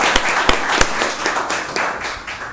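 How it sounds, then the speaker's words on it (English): Scattered applause from an audience at a 2021 election candidate forum, a few separate claps standing out over a soft wash of hands before fading. "Please give them a round of applause, folks."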